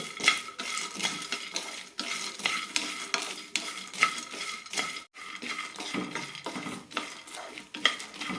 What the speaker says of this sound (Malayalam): ഹൈ ഫ്ലെയിമിലിട്ട് തന്നെ വറുത്തെടുക്കാം